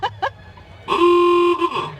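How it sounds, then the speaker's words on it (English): A 1930 Marquette classic car horn gives one loud, sustained honk of about two-thirds of a second, close by, after a couple of faint short sounds. "Of course, this is a horn."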